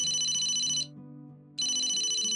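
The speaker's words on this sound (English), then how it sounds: "the small bedazzled flip phone at her side rang" A small bedazzled flip phone rings with a bright electronic ringtone in two bursts separated by a short silent gap. It is clear and close, with no talking.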